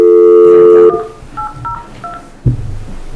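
Telephone keypad dialing tones: a steady tone, then a few short, evenly spaced beeps as keys are pressed, followed by a soft clunk.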